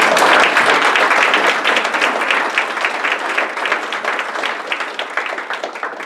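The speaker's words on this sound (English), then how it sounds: "So let's give Greg a big round of applause for filling up." An audience claps in a loud, dense burst of applause at a talk introducing a Penn State meteorology professor, sustained and close, then easing slightly toward the end.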